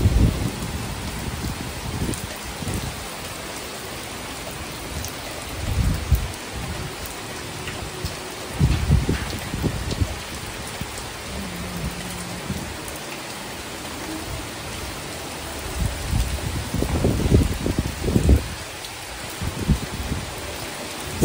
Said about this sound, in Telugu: దానికంటే ముందు ఇక్కడ వర్షం అయితే పడుతుంది.